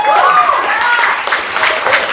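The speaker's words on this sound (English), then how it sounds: "everyone give a round of applause for this person" A comedy-night crowd applauds a cow costume with a halo, broad dense applause filling the room for a couple of seconds with a bit of talk and voices mixed in.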